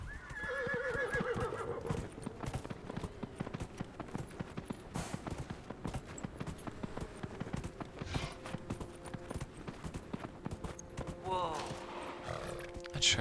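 In Dragon Age: Inquisition, a horse's hooves clip-clop in a quick steady gallop, with a whinny at the start and another near the end, a voice speaking over parts of it.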